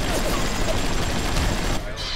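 Rapid gunfire in the video game BioShock, a dense burst of overlapping shots that fills most of a brief moment before cutting off abruptly.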